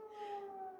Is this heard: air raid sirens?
yes